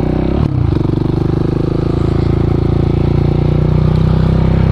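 KTM Duke 690 café racer motorcycle under way, its single-cylinder engine droning loud and steady with a sharp bump near the start, then a continuous throbbing ride with no voices.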